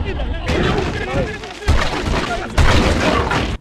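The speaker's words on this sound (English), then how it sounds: "the crunch they make as they get smashed apart is so satisfying" Enemies in the video game Tak 2: Staff of Dreams crunching and shattering as they are smashed apart, loud repeated crashing impacts with heavy thuds, mixed with game sound and a speaking voice.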